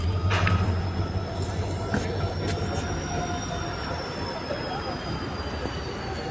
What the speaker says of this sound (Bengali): এই দেখো শাইলংয়ের ট্রেনটা চালু হয়েছে বর্তমানে টেস্টে লাগিয়া ইঞ্জিন স্টার্ট হয়ে